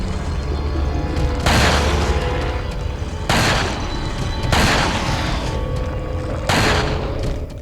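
TMP submachine gun bursts fire in Resident Evil 4 during the Krauser fight. Several loud, rapid sprays of shots are separated by short pauses over a steady game background.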